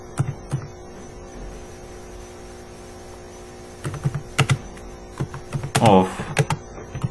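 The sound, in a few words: typing C++ code on a computer keyboard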